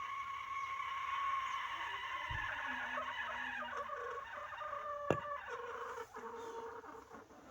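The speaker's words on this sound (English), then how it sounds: "Chickens definitely are contributing today." Chickens cluck on and off at a moderate distance over a steady outdoor background, with a few sharper calls and a brief thump partway through.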